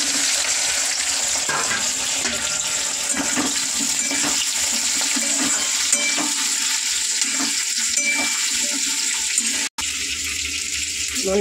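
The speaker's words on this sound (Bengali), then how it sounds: "তো বন্ধু, তেল গরম হয়ে গেছে। এরকম ডুমো ডুমো করে রাখা ক্যাপসিকাম আর পেঁয়াজটা দিয়ে দেবো।" Diced capsicum and onion hit hot oil in a pan, giving a steady, close sizzling hiss throughout, with occasional stirring clatter.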